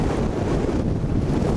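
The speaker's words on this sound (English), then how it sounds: "Ooh, today's a windy day, isn't it? It is windy." Strong wind buffets the microphone on a fishing boat, a steady loud roar with low rumble and no break, with no one talking.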